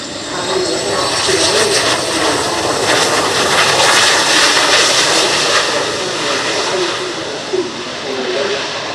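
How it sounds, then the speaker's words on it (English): F-16 fighter jets roar overhead in a NATO fly-past at the RIAT airshow, a loud continuous broadband rumble that swells and fades, with a commentator's voice partly masked beneath it. "And in comes the last of the F-16s from the NATO fly-past"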